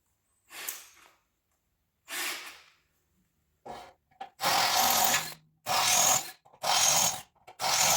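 A power drill bores holes with a quarter-inch bit for fuel tank mounting nutserts in short, separate bursts: two faint whirring runs, then several louder close grinding pulses separated by silence.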